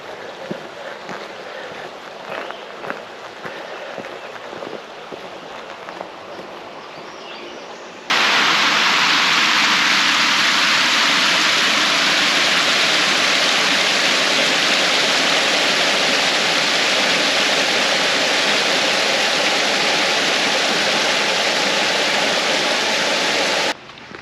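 Small stream running beside a hiking trail in Montgomery Bell, a steady close rushing wash of water that starts abruptly and holds loud and unbroken for most of the stretch after quieter outdoor ambience.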